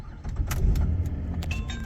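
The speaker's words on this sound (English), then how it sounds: "So I'll turn the car on." A Ford Falcon FG X is switched on with a short jangle of keys in the ignition. Brief clicks and electrical whirs follow under a low steady rumble, close by, with no talking.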